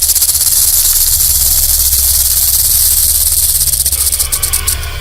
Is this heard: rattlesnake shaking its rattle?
yes